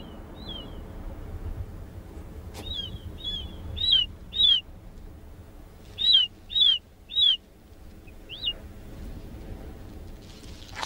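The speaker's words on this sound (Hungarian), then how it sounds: "Ebben a fészekben 2 öjv fióka van." Galápagos hawk chicks in a nest giving thin, high chirping calls, a series of short separate notes in small clusters, fairly close over a quiet outdoor background.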